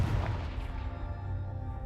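A Confringo blasting spell bursts in Hogwarts Legacy, a loud close boom that rumbles and decays into a steady low roar over two seconds.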